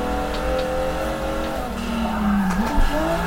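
An old Maserati in a multiplayer racing video game drones steadily at close range, and a rising, falling tire squeal cuts in as it takes a corner.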